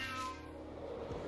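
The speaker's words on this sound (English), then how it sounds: "if you hear a cat meowing, it's because he's playing with a toy" A pet cat meows indoors in an office while playing with a toy, one short close meow over steady background noise.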